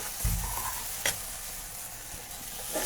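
Kheer filling for patishapta is stirred in a kadai, with a spoon scraping the pan over a soft, continuous cooking hiss; no one speaks.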